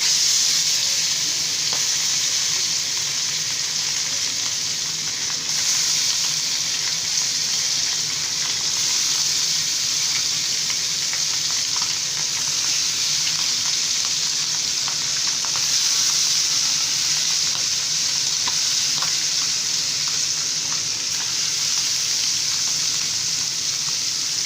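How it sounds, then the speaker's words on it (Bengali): Parshe fish frying in a generous amount of hot oil in a pan, a loud, steady, continuous sizzle with crackling bubbling that runs unbroken throughout, no voices. "আমি মাছগুলো দিয়ে দিচ্ছি। তেলটা কিন্তু অনেকটা, দেখেন তেলটা কিন্তু গরম হয়ে গেছে।"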